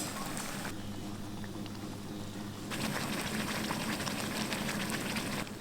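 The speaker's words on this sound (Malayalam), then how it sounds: "അരപ്പ് തിളച്ച് വറ്റിയിട്ടുണ്ട്." Spice paste for a chilli pickle bubbles and boils in a pan, a soft continuous patter of popping bubbles that grows slightly busier partway through.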